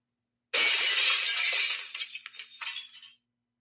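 A glass shattering sound effect: one loud, bright crash bursts in, followed by tinkling shards scattering and settling before falling silent.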